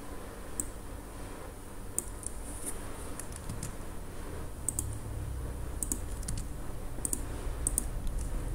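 Computer keyboard typing while entering data into statistics software, with scattered clicks and key taps over a steady room background, fairly close and no talking.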